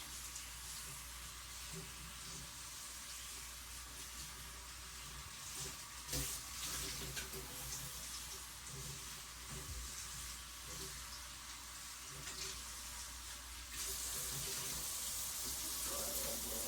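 Tap water runs from a kitchen faucet as ice trays are refilled, a steady continuous rush with no speech.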